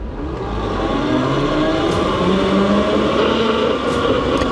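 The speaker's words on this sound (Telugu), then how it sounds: "ఈ బండి నడిపేటప్పుడు మీకు ఈ మోటార్ సౌండ్, చైన్ సౌండ్ అయితే స్పష్టంగా వినిపిస్తుంది" A continuous electric motor whine from a metal-bodied Hyena M1 Lite electric scooter, rising and falling in pitch, with a rattling chain drive underneath, loud and close, no talking.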